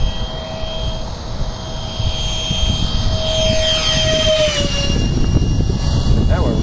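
A radio-controlled F-15 model jet with a 64mm electric ducted fan makes a low pass, a loud rushing whine that rises and sweeps in pitch as it comes overhead.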